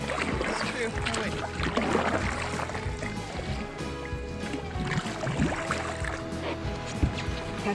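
A paddle dips and pulls through kelp-choked water from a small boat in the Broughton Archipelago, with repeated soft splashes and trickles up close, partly under people talking.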